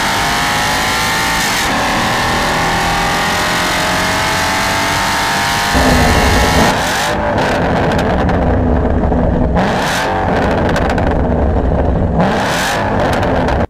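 A car engine revs loudly and close, rising in pitch through gears, then blipping in sharp bursts of throttle with no talking.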